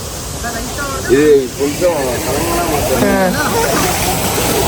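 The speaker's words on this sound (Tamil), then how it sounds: "இப்போ வந்து இதுதான் ஃப்ரெண்ட்ஸ் நமக்கு ஃபால்ஸு" A waterfall pours down in hilly country, a steady broad rushing roar that runs the whole time while people talk over it.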